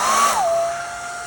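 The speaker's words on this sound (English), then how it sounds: "is bust out a hairdryer." Hairdryer blowing to dry freshly painted Warhammer miniatures, a steady close whirring blast with a whine that drops in pitch early on, then holds level and slightly softer.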